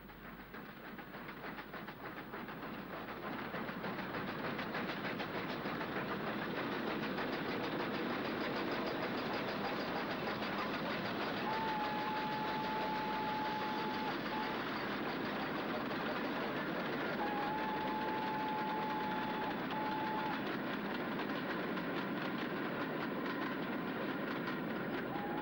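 A pair of USA tank steam locomotives coupled bunker to bunker run along the Fawley branch, a steady rolling rumble with faint whistle-like tones, close and continuous throughout, no talking.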